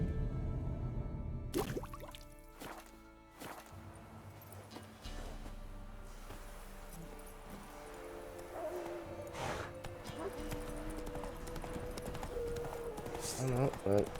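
Horse hooves clip-clop in The Witcher 3: Wild Hunt, a steady rhythmic trot under game music and ambient sound, with someone talking over it at times.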